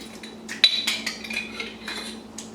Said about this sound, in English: I'm going to put about a cup of salsa in here.